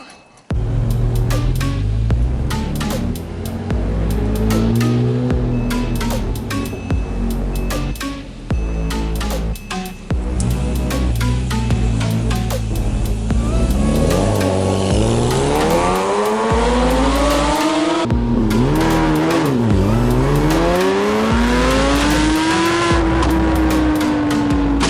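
A Rocket Bunny widebody Porsche Cayman drives by loud and close, with sharp revs, gear changes and a long swelling engine note as it accelerates away, plus a little tire noise.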